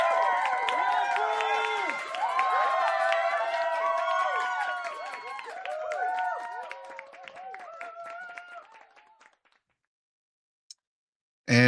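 Crowd cheering sound effect played loud, a dense burst of whoops, whistles and shouts that fades away after about nine seconds, followed by silence and a brief noise at the end.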